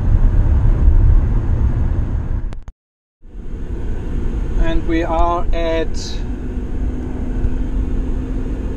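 A hybrid car's engine runs in charge mode to recharge the battery, a steady low rumble that breaks off briefly in a short dropout. A person speaks over it near the middle.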